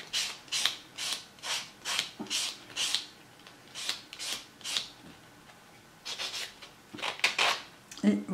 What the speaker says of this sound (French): je donne d'abord un coup avec le gros grain de ma lime sur la capsule. Et ensuite un petit coup de buffer